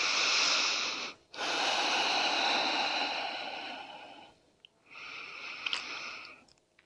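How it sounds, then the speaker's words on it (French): Slow, deep breaths drawn during a gentle yoga session, a long steady airy inhale and exhale followed after a pause by another shorter breath, close and fairly soft with no talking. "on va rester encore pour 2 profondes respirations"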